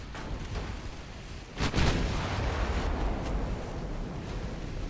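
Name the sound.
warship main guns firing at cruisers, from a video game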